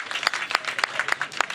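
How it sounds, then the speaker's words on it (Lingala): An audience applauds the head of state in a burst of quick, dense clapping, fairly close and continuous, with some crowd voices mixed in. "Acclamez pour le chef de l'État."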